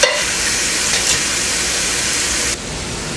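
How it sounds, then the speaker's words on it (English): Squirrel meat browning in a hot pan, a steady bright sizzle and crackle of frying that holds loud and close, then drops slightly in level near the end. "while the meat is beginning to fry"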